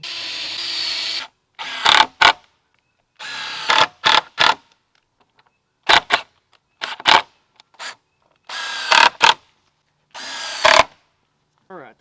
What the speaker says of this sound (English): Now I'm just going to put a couple of screws and some pre-drilled holes to hold it together.